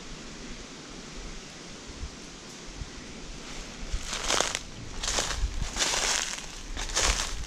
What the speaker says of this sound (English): You hear the wind in the top of the trees.